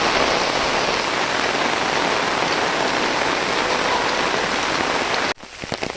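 Heavy monsoon rain pouring onto flooded paddy fields in Konkan, a loud continuous hiss of drops that cuts off abruptly near the end.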